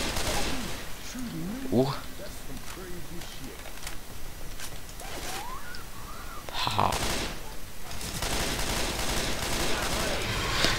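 Gunfire from a weapon in the video game Left 4 Dead 2 crackles in bursts, with a player talking and exclaiming over the shots.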